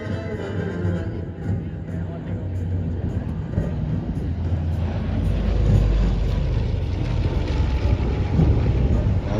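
A deep, steady roar of Wright Duplex Cyclone piston engines with a low rumbling drone that grows heavier midway, mixed with wind buffeting, as a Lockheed L-1049 Super Constellation propeller airliner passes overhead.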